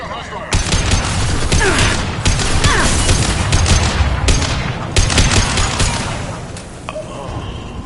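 Gunfire from the video game Mass Effect 2 during a street fight against Blue Suns mercenaries, loud sustained bursts of shots and blasts filling the whole stretch with no pause.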